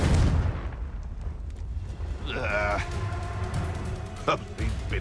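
The Confringo blasting spell from the video game Hogwarts Legacy, a deep booming explosion at the start followed by crackling magical effects and thuds amid combat, with character voices shouting over it.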